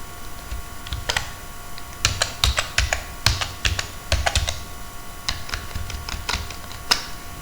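Rapid, uneven bursts of keystrokes on a computer keyboard while writing ARM Cortex-M4 I2C microcontroller code, close and clear over a quiet room hum, with short pauses between runs of typing.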